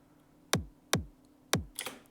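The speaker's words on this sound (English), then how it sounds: "And the top kick sounds like this." A top kick drum sample for a future bass track hits three times at an even pace, each a snappy, bright click with a light low thud, fairly quiet.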